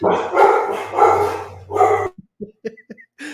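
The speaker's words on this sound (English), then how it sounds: "so I understand the rowdiness that is caused amongst the dogs" Indoors at home, a dog gives a series of loud close barks over the first two seconds, followed by softer short yips and whimpers that trail off.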